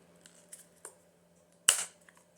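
A corner rounder punch snaps through paper on the fold of a Disney Bambi junk journal: one sharp close click and crunch after a few faint handling taps in a quiet room.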